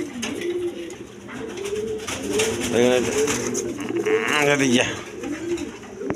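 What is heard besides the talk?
pigeons cooing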